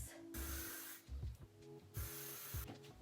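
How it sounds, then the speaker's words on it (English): Hair spray spritzed onto styled mermaid waves, two long hissing bursts with fumbling handling noise between them, close up and without voices. "So I'm gonna give it one last little spritz."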